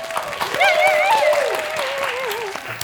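A studio audience on a Ukrainian song-guessing TV show applauds performers, steady clapping running beneath a voice that speaks and sings briefly.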